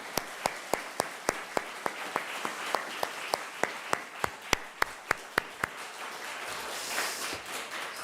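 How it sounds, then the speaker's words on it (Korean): A church congregation applauds during a Sunday worship service, sending support to a member's mother; sharp, evenly spaced claps beat out a steady rhythm over a soft wash of crowd noise. "힘차게 박수 한번 올려드리고 고맙겠습니다."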